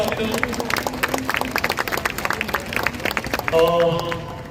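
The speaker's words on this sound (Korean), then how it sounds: "우리 한번 더 대표님께 큰 박수 부탁드리겠습니다." Sustained applause from an audience at a rally in Daegu, dense clapping throughout, with a brief tonal sound rising near the end.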